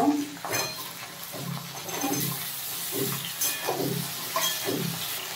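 Eggplant stirred and frying in a pan with green chillies, a spatula scraping and clattering against the pan in an uneven rhythm over a soft sizzle.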